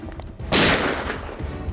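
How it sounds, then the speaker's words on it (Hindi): A single gunshot from a building in a TV crime drama goes off with a sharp, loud crack, and its noisy tail fades out over about a second. "सर गोली इस तरफ से चली है सर"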